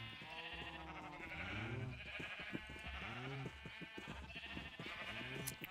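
Sheep in Minecraft bleat several times in wavering cries over a steady background hum, the calls fairly near and spaced a second or so apart.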